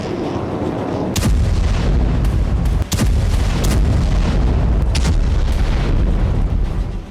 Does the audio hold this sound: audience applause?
no